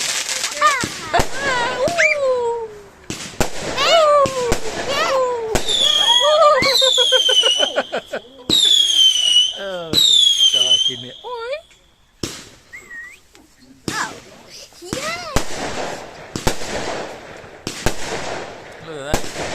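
Bonfire night fireworks go off close by in rapid bursts, with sharp bangs, crackles and rising whistles, while people talk and react in between.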